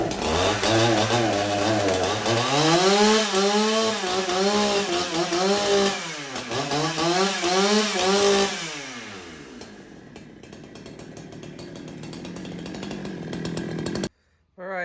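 A freshly assembled Farmertec 288xp chainsaw fires up and runs loud and close, revving up and down in repeated rising and falling sweeps before easing to a rougher idle, then cutting out briefly near the end.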